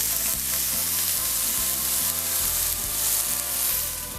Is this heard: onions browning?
yes